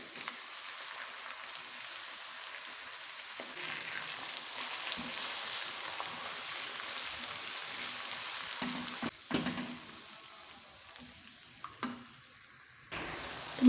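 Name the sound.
chopped tomatoes frying with onions in a pan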